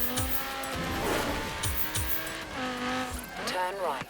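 Racing car engines whine and rev in Forza Horizon 3, pitch rising and shifting as an opponent car draws near from the left, with tires squealing and a voice underneath.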